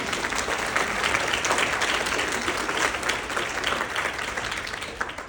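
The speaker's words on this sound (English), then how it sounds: "So give yourselves a round of applause for me, please." An audience breaks into sustained applause, a thick wash of many hands clapping at steady volume from start to finish without talk.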